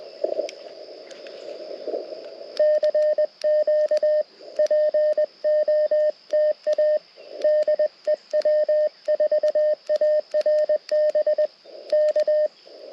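Morse code sidetone from a memory keyer on a radio during a portable Parks on the Air activation with a Mountain Topper rig: steady bursts of clean, high-pitched beeping in rhythmic dit-dah groups, loud and close, following a brief stretch of rustling handling noise.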